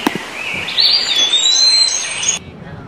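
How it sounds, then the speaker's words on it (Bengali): A clear, high bird call sweeps and whistles for about two seconds in a forest near Gunflint Lodge, loud and close over a quiet hiss before stopping abruptly. "আর পাখির ডাক,"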